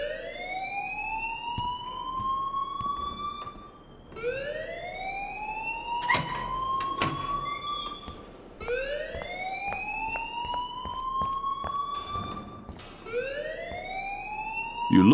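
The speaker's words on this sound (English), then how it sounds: "please turn off that alarm since that's your job" Repeating electronic alarm in the Life Is Strange video game, with rising wails that climb and hold in cycles of about four seconds, plus sharp beeping tones mixed in, loud and continuous with no talking.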